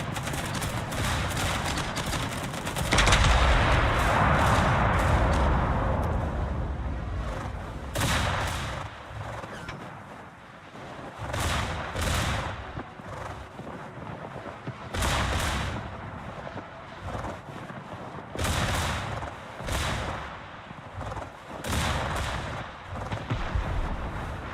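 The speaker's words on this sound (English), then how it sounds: "These guns almost sound like battleship guns." Heavy naval guns boom in World of Warships, a series of loud, deep blasts repeating every few seconds, each with a rumbling tail, over a steady game soundscape.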